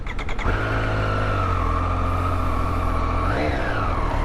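A Triumph Street Triple R motorcycle engine revs up and holds a steady high drone, then its pitch jumps briefly before settling, loud and close with no voices.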